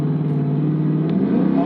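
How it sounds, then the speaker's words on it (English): A Chrysler 300 SRT8's engine rumbles loudly and steadily, its deep exhaust note droning close by with a slight rise in revs, no voices. "fucking exhaust sound on this"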